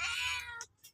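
Kittens meowing close by in an untidy litter being separated from their feeding mother cat, one long meow followed by two short ones.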